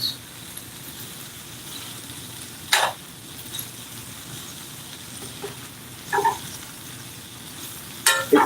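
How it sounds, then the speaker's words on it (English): Onions and spicy sausage browning in a pan give a steady soft sizzle throughout, broken by a few sharp clinks of a utensil stirring against the pan near the middle and end. "But the onions are browning."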